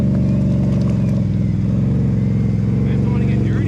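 A Can-Am Renegade ATV in four-wheel drive churns through mud with its engine roaring steadily and revving near, loud and continuous, while a voice talks over it.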